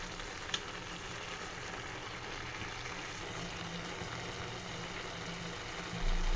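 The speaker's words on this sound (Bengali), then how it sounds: "দেখুন দর্শক, শাক ভাজিটা হচ্ছে" Malabar spinach and potato fry in a pan, making a low, steady sizzle with a soft tap near the start.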